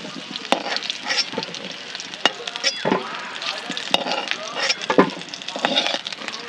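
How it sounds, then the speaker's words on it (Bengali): Potatoes fry in a pan in a home kitchen with a steady sizzle, broken by sharp scraping and clanking as a utensil stirs them, and voices can be heard faintly in the background. "আলুগুলো ভাজা হয়ে গেছে, ভালোই ভেজেছো গো"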